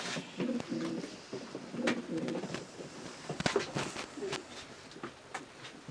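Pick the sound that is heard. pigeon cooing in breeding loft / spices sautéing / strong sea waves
pigeon cooing in breeding loft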